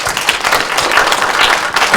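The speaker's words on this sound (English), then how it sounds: "So let us give him a hand of applause again" Audience applause after a university talk in Botswana, dense steady clapping from many people throughout, loud and close with no pause.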